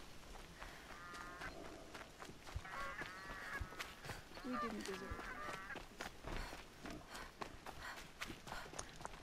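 Goose honking in the Horizon Zero Dawn video game: several short, nasal honks in quick clusters, moderately faint, over footsteps and low game ambience, with a voice speaking briefly.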